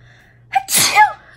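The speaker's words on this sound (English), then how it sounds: "I have to sneeze." A single sharp sneeze, close and loud, with a quick inhaling catch just before the burst.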